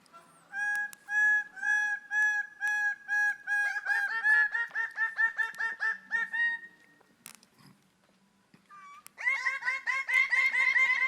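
Birds arriving at a dawn display lek give loud, rhythmic repeated calls in rapid bursts, several birds overlapping, a short quiet gap, then another intense burst of calling close by.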